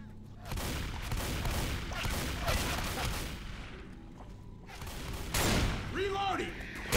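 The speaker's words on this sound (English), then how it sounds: "This is my kind of shotgun right here." Shotgun blasts and other gunfire in the zombie shooter Left 4 Dead 2, a run of close, loud shots in bursts over busy game noise, with a voice briefly audible.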